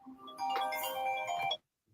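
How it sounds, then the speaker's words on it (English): A mobile phone ringtone plays a melodic tonal phrase for about a second, moderately quiet in a room, then cuts off into silence. "Whose phone's ringing?"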